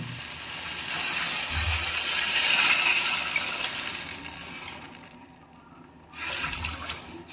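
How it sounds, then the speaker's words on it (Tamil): Tamarind water pours and splashes into a pan, rising to a steady gush, easing off, then a brief final splash near the end. "இப்போ நம்ம எடுத்து வச்சுக்கூடிய புளி தண்ணியில் சேர்த்துக்கலாம்"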